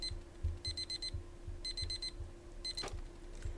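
A digital alarm clock in the video game Deep Pixel Melancholy rings in rapid bursts of high electronic beeps, three bursts of four beeps each, loud and alone over a low hum.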